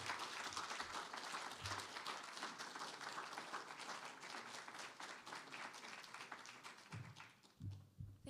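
An audience applauds after a faculty presentation, a dense and sustained wash of clapping that thins and tapers off toward the end, heard from a distance in the hall.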